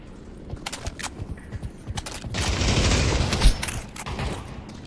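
Gunfire in the multiplayer shooter Pavlov: a rapid string of sharp shots, then a louder dense burst with a heavy bang near the middle, followed by more scattered shots.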